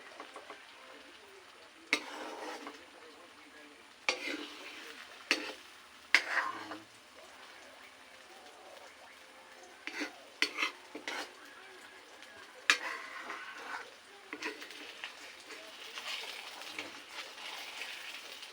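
Two eggs frying in a pan for a home breakfast, a soft steady sizzle with scattered scrapes and clinks of a utensil against the pan throughout.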